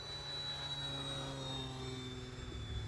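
An RC Arrows Bearcat model airplane fitted with a two-blade prop cruises at half throttle, its electric motor giving a steady, slightly wavering whine with a faint drifting pitch, moderately distant and constant throughout.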